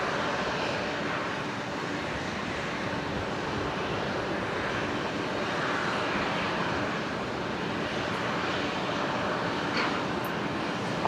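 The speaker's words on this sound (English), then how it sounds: "The 737-800 here on 19 left." A Boeing 737-800 airliner on runway 19 left at Brisbane Airport, heard as a continuous broadband jet engine roar, fairly distant and steady throughout, with wind-like noise and no talking.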